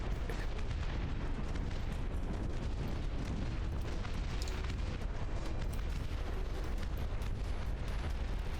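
Artillery fire in the Dust Front RTS strategy game, a dense, continuous barrage of booms and explosions rumbling at moderate distance, steady throughout without clear pauses.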